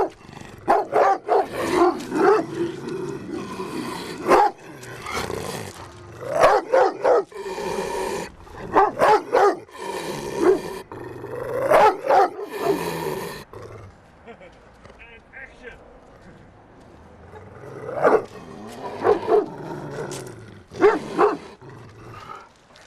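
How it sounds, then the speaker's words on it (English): Dogs bark outdoors outside a musicians' club, repeated loud woofs in bursts with pauses between, while people talk nearby. "point it to the dogs."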